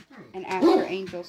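A pet dog barks and yips nearby in a room, with short sharp calls overlapping a person who keeps talking steadily.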